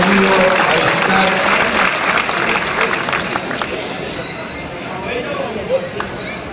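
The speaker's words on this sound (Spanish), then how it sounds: "Aplauso para ellos" Audience at an Argentine barbecue (asado) championship applauding, a dense crowd clapping that is loud at first and gradually tapers, with a voice speaking over the start.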